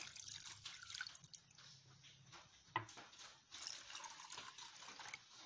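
Water trickles and splashes faintly into a pressure cooker holding mutton pieces in a home kitchen, a soft uneven pour with light drips and a small clank.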